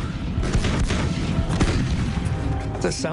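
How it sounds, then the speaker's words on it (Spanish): An allied artillery barrage of some 700 guns opens fire in a World War II tank battle at the Hochwald Gap in Germany, a continuous rumbling roar of booms and crashes layered together, loud and dense, with some voice-like sound near the end. "El asalto comienza con fuego de artillería de 700 piezas aliadas"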